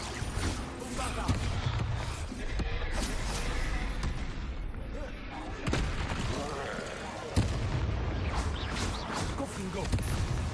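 Bombarda spell explosions in the Hogwarts Legacy video game, a dense barrage of booming blasts and crackling impacts layered over continuous battle noise, with several louder bursts standing out.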